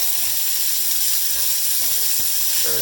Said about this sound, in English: We'll let this cook for about 3 minutes till the onions and peppers get a little translucent on the outside edges.